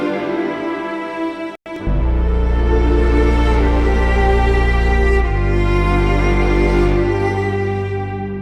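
A live string player is layered with a virtual string library, giving a full ensemble of sustained, close string chords. The chords change every few seconds with no voices.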